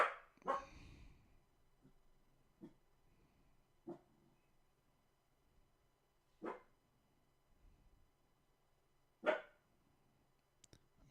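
A single dog barks sporadically, about half a dozen short sharp barks spaced seconds apart, fairly faint against an otherwise quiet background.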